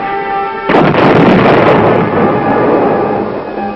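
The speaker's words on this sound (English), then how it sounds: "They respect the wallop of the recoilless rifle, the infantryman's close-in weapon against tanks." A recoilless rifle, the infantry's close-in anti-tank weapon, fires once with a loud, booming blast that rolls on as a long echoing rumble, heard alone over a steady background hum.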